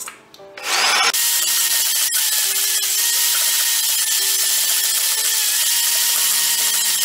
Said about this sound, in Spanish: Voy a batir las dos claras de huevo.